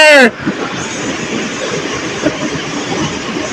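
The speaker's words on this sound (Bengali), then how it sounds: "গাইস, আপনারা দেখেন কত জোরে চিত্রা এক্সপ্রেস ট্রেনটি যাচ্ছে।" The Chitra Express running fast, a steady loud rumble and rush of rolling wheels and carriages heard close, after a brief voice at the start.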